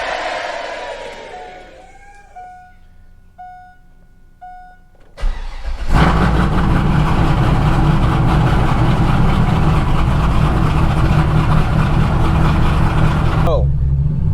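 C5 Corvette cold start in Cleveland, Ohio: a few seconds of quieter background sound and faint tones, then the engine cranks and catches with a loud burst and settles into a steady, rumbling high idle that ends abruptly.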